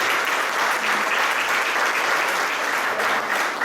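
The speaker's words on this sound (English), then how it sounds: "just one last round of applause for the Case Fund Committee" Outdoor audience applause at the opening of Caddington Woods, with dense, sustained clapping from a crowd that fills the whole stretch at a steady level.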